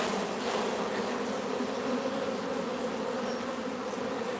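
Honeybees buzzing around a beehive stacked with three supers, a dense, continuous drone that stays close and steady throughout with no voices over it.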